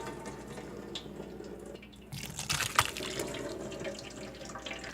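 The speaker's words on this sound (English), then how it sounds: "you want to scoop out the tomatoes like this and pour them into a" Cooked tomatoes are poured from a scoop into a kitchen strainer, making a wet splashing pour that swells midway and then settles into a steady trickle and drip.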